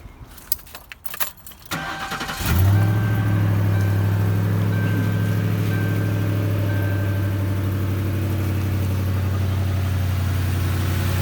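Keys rattle briefly, then a 2007 Lincoln Town Car engine with an exhaust leak cranks and catches, settling into a steady, loud idle that hums on without pause.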